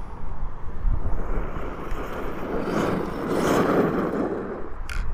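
Wind buffets the microphone in steady gusts with a low rumble, swelling midway, alone without voices.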